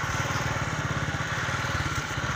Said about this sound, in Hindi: मोटरसाइकिल पे ले जा रहे हैं